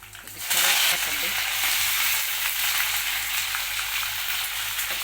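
Peanuts hit hot oil in a pan for Andhra pulihora and set off a loud, steady, hissing sizzle that holds level and close throughout, with no talk.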